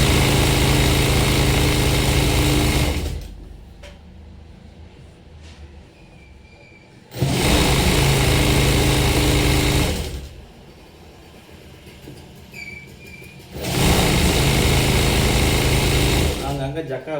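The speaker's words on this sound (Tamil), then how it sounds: "இப்போ தைச்சி அதே ஊசி எடை தான் அடிக்கிறேன்" Sewing machine stitching a blouse piece, running in loud steady bursts that stop and start three times, with quieter pauses between runs.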